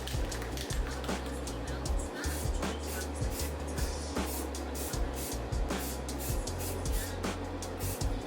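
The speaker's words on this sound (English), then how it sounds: "I am cramped in my office and I am spraying it." Aerosol spray paint hissing onto a doll being recolored, sprayed indoors in a cramped office, in steady continuous bursts with a low hum underneath.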